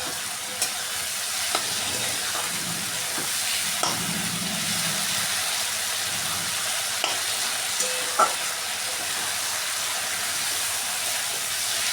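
Mixed vegetables are stir-fried in oil, a loud, steady sizzle with repeated spatula scrapes and taps against the pan scattered across the stretch, no voices.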